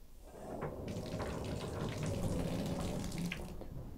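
Water rushing steadily from a shower after a newly replaced shower valve and diverter spout, a continuous close hiss of spray and splashing that swells slightly midway.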